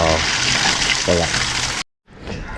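Water rushes steadily out of a drained water tank during cleaning, a loud continuous gushing that cuts off briefly and resumes, with a person speaking over it.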